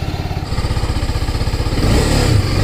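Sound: motorcycle engine warming up and revving

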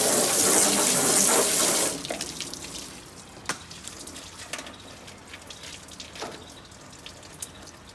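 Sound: water rinsing metal shavings out of grill part

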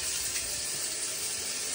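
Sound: water running from a tap

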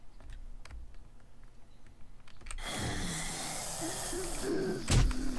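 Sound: bird call in the video game 7 Days to Die

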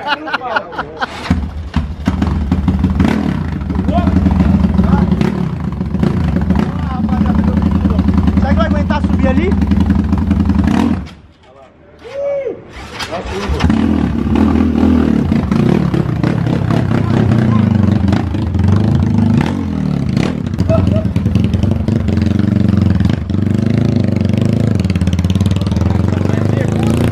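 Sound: Honda Today 371cc motorcycle engine revving

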